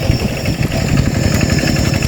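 A tractor engine idles in a rice field, a loud, close, low rumbling throb with a steady mechanical pulse and slight fluctuation, no voices over it.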